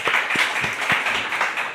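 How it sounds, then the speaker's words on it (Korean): Congregation at a Korean church service in Japan claps in welcome and blessing, a dense, steady broadband patter of many hands with a few sharper individual claps standing out, fairly close and continuous. "다시 한번 큰 박수로 환영해 주시고 축복해 주시기 바랍니다"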